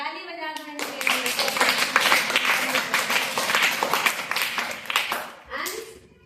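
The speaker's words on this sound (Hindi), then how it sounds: "ताली बजा दो इनके लिए।" Children in a classroom break into a round of clapping for a classmate, a dense burst of many small hands lasting several seconds and then fading, with brief voices at the start and end.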